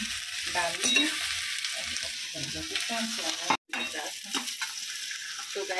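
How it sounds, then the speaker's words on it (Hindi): Ginger-garlic tempering for a home-cooked veg manchurian sizzles and crackles steadily in hot oil in a pan, with stirring scrapes over it and one brief gap of silence. "अब इसमें डाल दूं मैं अदरक लहसुन का तड़का"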